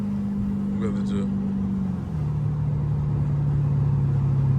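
A loud Dodge Hellcat engine drones steadily from inside the car while cruising through city streets at night, its tone dropping slightly midway as it shifts, with the hum continuing under background noise.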